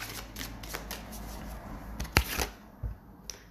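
Oracle cards being shuffled and handled, with soft riffling and tapping that rise to a sharper snap partway through, close and fairly quiet.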